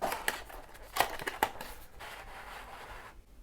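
Cardboard packaging of a JoyRoom JR-T03s Pro earbuds box being opened, with a few sharp crinkling and scraping bursts followed by softer rustling, close up and with no talking.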